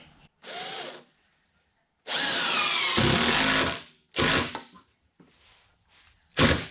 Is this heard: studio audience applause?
no